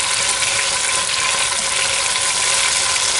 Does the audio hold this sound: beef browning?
yes